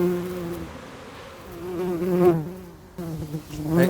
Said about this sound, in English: I hope you enjoyed them bees there